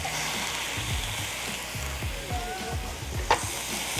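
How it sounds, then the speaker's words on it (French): Skewers sizzle on a hot cooking plate, a steady crackling fry with occasional scraping stirs and a brief sharp clink near the end, close and continuous. "Donc moi, je vais les mettre à cuire."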